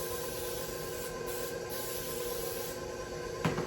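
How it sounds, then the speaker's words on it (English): Cooking spray hissing steadily from a can as it coats a 9x13 cake pan, a continuous close spray lasting several seconds, ending with a faint clink near the end. "So I'm gonna spray it down."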